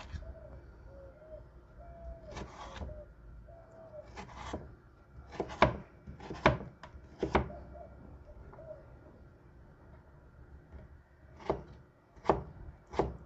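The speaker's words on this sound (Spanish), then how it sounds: "ahora vamos a picar la papa también" Potato being chopped into small cubes on a board for an easy chicken salad, a series of sharp knife taps in irregular bursts, close and fairly quiet, with faint bird cooing in the background.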